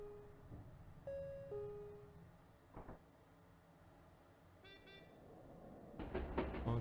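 A car horn in a video game toots in short tonal blasts: one around the first second, another near five seconds, then a brighter cluster near the end over a quiet synthetic background.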